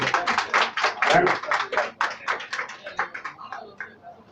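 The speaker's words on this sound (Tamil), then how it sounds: "கரவொலியால் கைத்தட்டி" Audience applause at an award and memento presentation ceremony, a burst of many hands clapping that starts loud and dense, then thins into scattered separate claps as it fades out.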